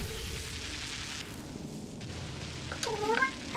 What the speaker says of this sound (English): Hi, kitty cat. What's up?